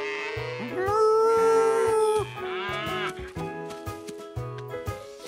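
Cartoon cows give several drawn-out moos, one long and loud, over a bouncy musical score with a voice mixed in.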